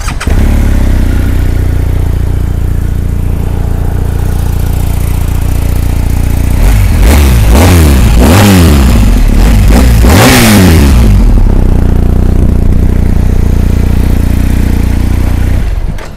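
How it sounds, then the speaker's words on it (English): A 2019 BMW R1250GS motorcycle engine starts and idles steadily up close, then revs repeatedly in rising and falling bursts before settling back to idle. "mari kita cuba start tengok GS1250 bunyi dia macam mana"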